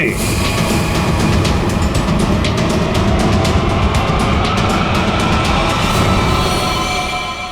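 Loud, continuous rumble of heavy traffic and metro construction machinery, a dense roaring wash with rattling and clanking on top, steady for several seconds.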